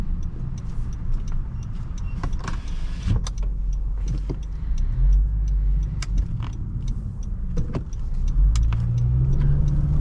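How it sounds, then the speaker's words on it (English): A 2016 Honda Accord Sport with the 2.4 engine hums from inside the cabin on a test drive, a moderate steady drone that swells as the car accelerates, mixed with small interior clicks and no talk. "The engine is lively, it sounds good"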